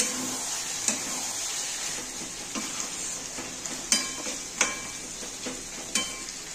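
Chicken liver stir-fried in a pan for a Bengali kosha, a steady close sizzle broken by sharp scrapes and clinks of the spatula every second or so, with no talking.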